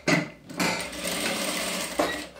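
A sewing machine stitches the center-front facing seam of a blazer in short close bursts, a brief run, a pause, then a longer steady whir of rapid stitches.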